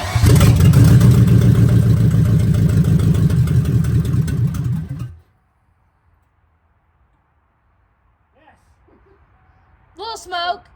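A reinstalled car engine starts for the first time and runs loud and steady with a rough idle rumble for about five seconds, then cuts off into near silence, followed by brief distant voices.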